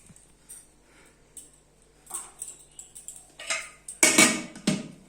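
Dishes and utensils clink and clatter while rice is served for a Sunday lunch, with scattered light taps growing into louder bursts of close metallic rattling near the end.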